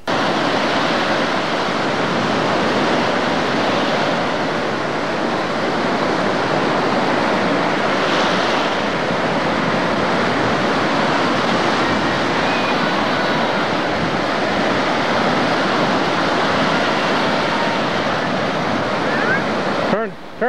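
Ocean surf rolling steadily onto a private beach during a horseback ride, a continuous broad wash of breaking waves with wind noise on the microphone, loud and unbroken throughout.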